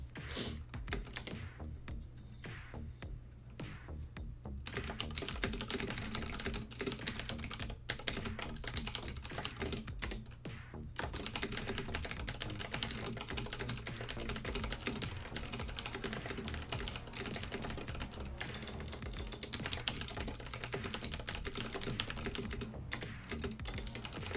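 Steady mechanical keyboard clacking fills the whole stretch, dense and continuous with brief pauses near the start, close and crisp with no voices.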